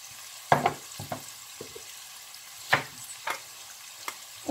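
Canned beans with tomato paste get stirred in a pan: scattered scraping strokes and soft knocks of the spoon come in irregular bursts over a quiet, faint simmer, close up.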